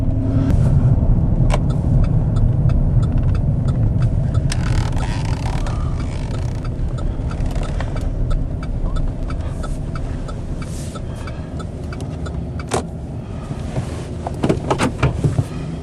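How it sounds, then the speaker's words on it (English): A pickup truck rolls along a farm road toward a patch of woods, its engine a steady close rumble inside the cab with occasional rattles and knocks, easing slightly quieter as the drive goes on. "Okay, I'm in the truck. I'm just going to go down the road a little bit here"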